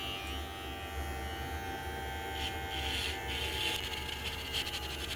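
A Kemei KM-1986 professional hair clipper buzzes steadily and close by while shaving, with a low motor hum and faint rasping as it passes over hair, no talking.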